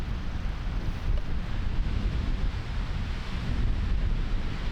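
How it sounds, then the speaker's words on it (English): Gusty wind roars across the microphone on a windstorm hike along a creek trail, a steady rumbling buffeting that swells and eases over several seconds with no voices. "But it is breezy and not as dusty today."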